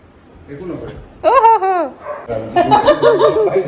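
A dog yelps and barks in short, whiny bursts close by, with people's voices mixed in.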